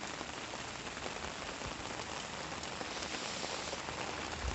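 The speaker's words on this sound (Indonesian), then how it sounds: "diguyur hujan" Heavy rain pours steadily onto the roof of a Toyota Sienta campervan at a campsite, a dense, even drumming patter with no talk.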